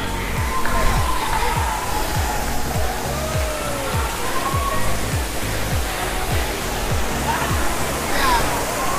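Steady rushing roar of Kakolat waterfall in Bihar, India, dense and constant throughout, with faint voices occasionally audible beneath the water noise.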